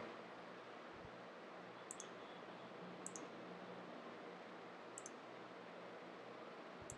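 Computer mouse being clicked while testing a login and shopping cart web app: four faint, crisp isolated clicks spaced a second or two apart over quiet room hiss.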